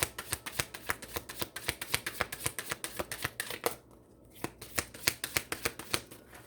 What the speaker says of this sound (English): Let's get another card on the Six of Wands.